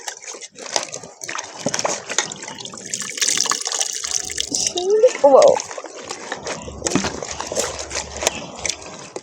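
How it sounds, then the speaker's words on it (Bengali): Fresh young spinach being washed under running water in a kitchen sink, splashing and trickling sounds with handling noises, while a person talks over it. "ভালো করে পালং শাকটা এবার ধুয়ে নেব জল দিয়ে"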